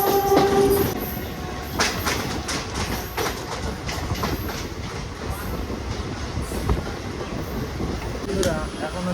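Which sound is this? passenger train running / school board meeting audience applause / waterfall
passenger train running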